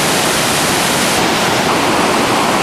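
A loud, steady roar of rushing water from the waterfall at Bad Gastein, Austria, constant and broadband with no breaks.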